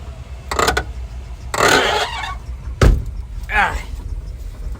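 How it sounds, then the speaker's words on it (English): A 1961 Cadillac hearse's door swings open while the car is moving, heard as a few sharp knocks and a clattering bang amid road noise, with someone talking loudly between the sounds. "Driving the hearse and the door flew open."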